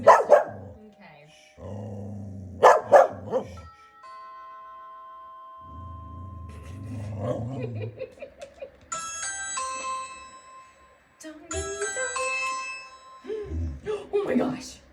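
A dog barks and growls repeatedly at a series of Ring doorbell chimes indoors, the bright melodic tones ringing out between bursts of loud barking, with a person speaking briefly.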